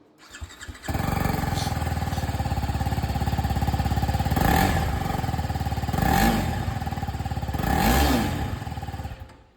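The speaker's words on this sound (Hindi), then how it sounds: "सबसे पहले सुनते हैं RR 310 को।" A TVS Apache RR 310 motorcycle starts up after a brief moment of near silence and then idles with a steady, loud exhaust thrum. There are three short revs, spaced about two seconds apart, and no voices.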